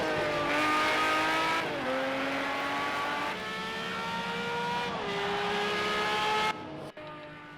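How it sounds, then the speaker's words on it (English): Race cars from the Project Cars 2 video game at the Catalunya circuit, engines howling at high revs with several gear shifts and pitch changes as they cross the finish line, loud and close, ending abruptly. "And Chrysler comes out of the final complex."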